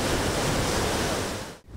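Rough, choppy sea on the Salvadoran coast, with a loud, steady roar of crashing waves and wind noise, nearly continuous, briefly dipping to silence near the end.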